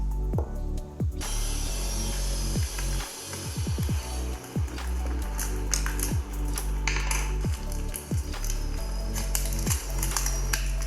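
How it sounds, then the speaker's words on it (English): A plastic CD case is pried apart to remove its casing, giving close, sharp clicks, snaps and ratchet-like cracks in irregular bursts over a steady background hum. "Now let's take the CD case and let's remove the casing."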